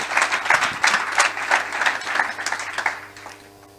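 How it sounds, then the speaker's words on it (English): Applause from an audience at a political media briefing ahead of the 2021 local elections, a few seconds of dense clapping that fades out toward the end. "And I think you can give that a round of applause."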